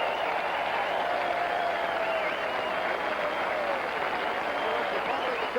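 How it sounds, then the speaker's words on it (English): Huge racetrack crowd at the 1973 Kentucky Derby roaring and cheering for Secretariat, a dense, sustained wall of cheers and applause heard loud and close, with a voice faintly over it. "the crowd loves it"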